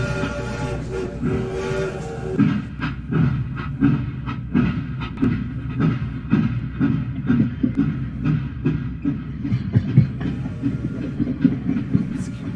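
A train at a busy station, staged as a radio drama sound effect, rumbles with a low, continuous drone and steady clickety-clack rhythm, its horn sounding briefly at the start amid a dense, loud mechanical wash.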